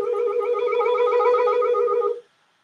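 A single sustained recorder note played with tremolo, its upper overtones wavering in a quick, uneven shimmer; moderately loud and alone for about two seconds before cutting off.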